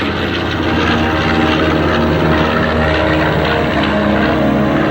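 Vintage bomber Panchito roaring overhead at the NAS Patuxent River Air Expo, a loud, steady propeller-engine drone filling the air throughout, with no talk.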